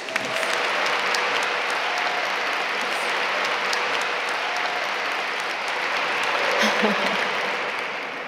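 Sustained applause from a college recognition ceremony audience welcoming the faculty speaker, steady and dense, filling the hall throughout with a few scattered cheers.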